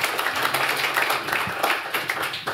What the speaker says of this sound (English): So please, let's have a round of applause for them.